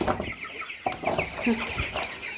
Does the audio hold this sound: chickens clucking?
yes